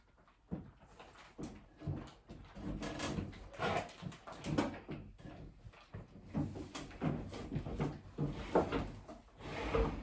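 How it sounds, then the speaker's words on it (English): A wooden cabinet door being worked into place, with repeated knocks, scrapes and clunks of the door against the frame in uneven bursts, fairly close and without talk. "I can put another door up here so you can already kind of see what the difference is"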